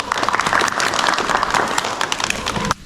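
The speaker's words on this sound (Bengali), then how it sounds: "তার জন্য দেওয়ার জন্য একটা হাততালি" A group at a retreat gathering in Rangamati breaks into dense, close applause that holds steady for a few seconds and then stops abruptly.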